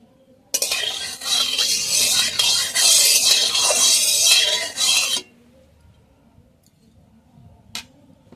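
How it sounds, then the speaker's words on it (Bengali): Small crabs are dropped into hot mustard oil in a wok, causing a sudden loud crackling sizzle with a metallic clatter. It lasts about four seconds and then cuts off, followed by quiet and a single click. "কড়াটা গরম হয়ে গেছে, কড়ার মধ্যে দিয়ে দেবো সরষের তেল। ক্যাংড়াটা আগে ভেজে নেব"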